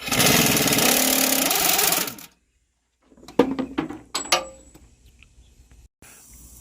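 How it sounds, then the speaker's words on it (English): A pneumatic air impact gun hammers loudly at rusted, heavily torqued engine head bolts on a Mustang for about two seconds, then stops, followed by sharp metallic clanks and tool handling nearby. "I'm actually letting him use the air gun for once because these are torqued down pretty heavy and they're rusted badly."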